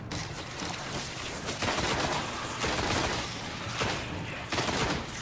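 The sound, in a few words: gunfire from a rifle in the video game Destiny Beta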